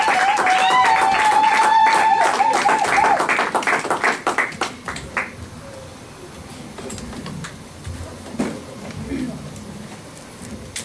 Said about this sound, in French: Encourageons la servante de Dieu en acclamant très fort pour la gloire du Seigneur.